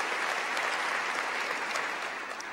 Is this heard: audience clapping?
yes